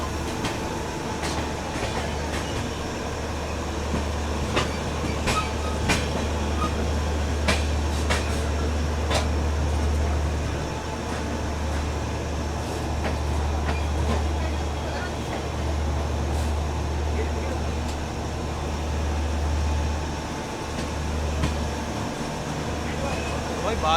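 An Indian passenger train hauled by a WAP4 locomotive on the New Delhi to Barauni special, running along the rails with a steady low rumble and periodic clicks from the track joints. Faint voices can be heard in the background.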